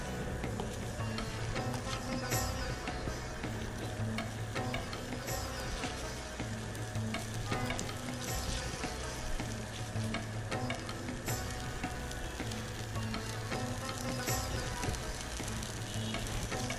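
Prawn curry bubbles and sizzles in a pan as the heat rises, a dense, continuous frying hiss with a faint hum under it, steady throughout and close by, with no talking.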